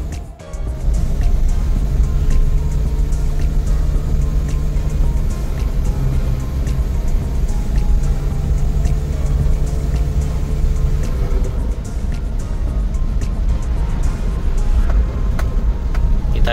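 A Suzuki DA64W Samurai Edition van's engine runs steadily while driving, a loud continuous drone with a faint rise in pitch, accompanied by road noise and close cabin sounds.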